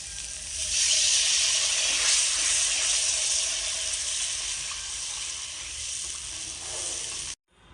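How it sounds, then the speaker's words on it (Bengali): Watery ground spice paste hits hot oil in a pan while cooking a tangy-spicy shol fish curry with raw mango and potato, giving a loud, steady hiss that holds for several seconds before cutting off. "এখন আমি মশলা বাটা জল দিয়ে দিচ্ছি।"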